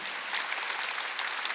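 Dense applause from a church congregation during a Sunday worship service, a steady wash of many hands clapping together, fairly close and without speech over it.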